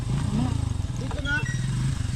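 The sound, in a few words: motorcycle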